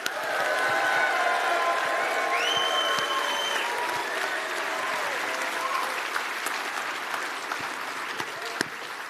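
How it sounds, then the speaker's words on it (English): An audience at a political party campaign launch claps and cheers in a steady, full round of applause, with a few whistle-like tones rising above the crowd noise throughout. "We're going to clap, we're going to cheer, we're going to make a big round of applause."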